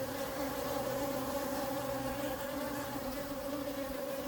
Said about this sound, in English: they almost sound like angry bees, but it's when you get a lot of drones together